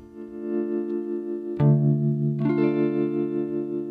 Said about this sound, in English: that is my guitar signal going into this Boss.